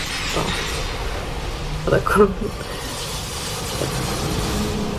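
The crystal tail of Seath the Scaleless breaks during a Dark Souls Remastered boss fight, a brief shattering crash over steady game noise, with a player talking through it.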